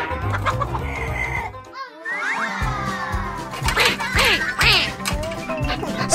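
Cartoon chickens on an animated farm cluck and squawk in quick, bright bursts, with a brief silent gap early on and a busy run of clucks and squeaky calls afterward.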